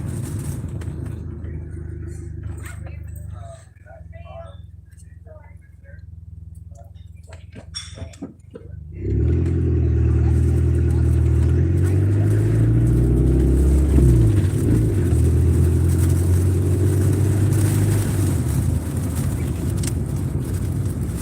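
A car driving on the road: a quiet, near-still cabin with a few small clinks gives way abruptly to a loud, steady rumble of engine and road noise that carries on to the end.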